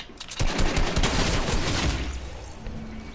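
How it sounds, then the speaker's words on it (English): Sniper rifle fire in a PS4 shooter game: a dense, close volley of loud cracking shots rattles for about two seconds, then trails off into fainter noise. "I just got double sniped"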